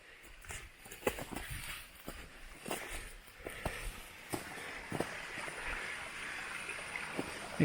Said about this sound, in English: Nice little stream here.